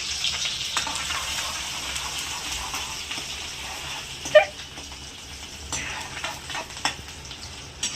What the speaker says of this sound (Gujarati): શાક વઘારું છું.